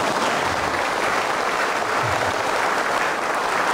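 An audience at a Buddhist Kalachakra Dharma assembly in London applauds, a dense, continuous wash of many hands clapping at even loudness.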